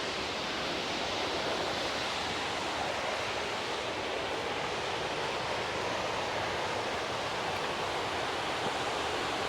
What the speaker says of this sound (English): Kind of see the waterfall right there too.